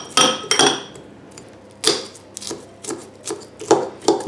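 Raffaello coconut-almond chocolates broken into pieces in a bowl: sharp chopping knocks in a few separate bursts, the loudest near the start, then lighter cracks spaced irregularly, close and without talk.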